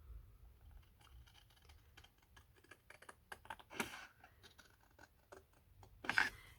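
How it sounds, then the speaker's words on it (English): Scissors snip along the edges of a card gift box, giving a run of short, close crisp cuts with a sharper louder snip near the end, and no talking. "Get out my trusty favourite scissors, and we're going to cut along these edges here."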